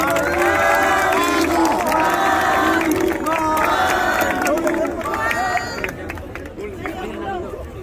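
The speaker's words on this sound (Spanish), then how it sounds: "Fuerte aplauso para Manu" A crowd at a freestyle rap battle cheers and shouts between rounds, loud and continuous, with whoops and excited voices over a babbling background.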